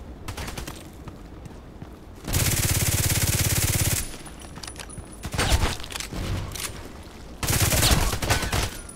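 Bursts of rapid Glock pistol fire in the Contract Wars shooter game, two long loud volleys separated by quieter stretches of scattered background game noise, with a third burst near the end.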